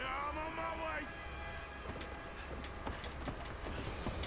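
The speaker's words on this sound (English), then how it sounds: "Train!" A train passes in the video game Red Dead Redemption 2 with a rolling rumble and rhythmic clattering that builds over a few seconds. Voices can be heard through it.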